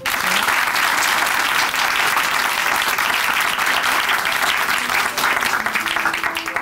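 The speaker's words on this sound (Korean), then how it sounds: "다시 한번 큰 박수 보내드릴게요" A large church congregation claps in loud, steady applause that fills the whole stretch without pause.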